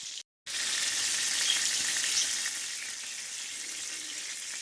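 Gravy bubbling and sizzling steadily in a frying pan as it is stirred, a close, continuous crackling hiss after a brief silent gap at the start.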